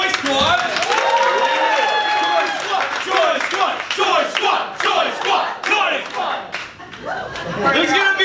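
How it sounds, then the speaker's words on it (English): An improv comedy show audience applauds and cheers for a group, a dense burst of clapping with crowd chatter and laughter throughout, loud and close. "Round of applause"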